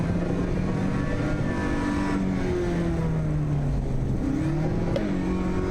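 A race car engine in the Assetto Corsa EVO sim racing game accelerates, droning loudly and continuously as its pitch climbs and dips with throttle changes, with no talking over it.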